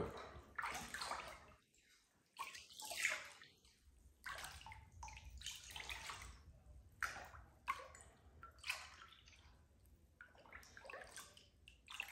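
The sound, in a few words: stirring kava in water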